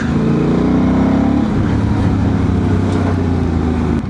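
A remapped Honda Transalp 750 motorcycle engine revs steadily and loud, its droning exhaust shifting pitch partway through with no talk over it.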